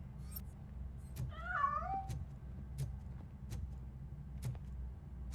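A cat in the video game RoboCop Rogue City gives a single close wavering meow over a steady low engine-like hum, with sharp clicks ticking at intervals throughout.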